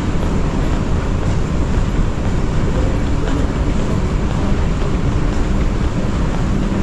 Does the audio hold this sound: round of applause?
no